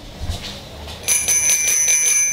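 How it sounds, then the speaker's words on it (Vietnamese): A bell on a Giant FCR 3100 bicycle rings in a rapid, bright, repeated trill after a moment of faint handling noise, close and clear with no talk. "Xe đi về có một chiếc chuông đi kèm."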